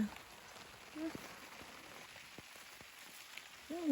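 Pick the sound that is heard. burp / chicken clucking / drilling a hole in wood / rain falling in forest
rain falling in forest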